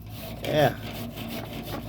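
Short back-and-forth scraping of a rusted metal grill grate being scrubbed clean over heat, a single rasping stroke standing out, with a brief spoken word nearby.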